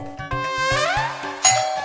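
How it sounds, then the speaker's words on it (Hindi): A doorbell chimes in a house, a bright ding-dong ringing out clearly over a layered background of steady tones, with a sharper high note near the end. "हर 5 मिनट में घंटी बजती है"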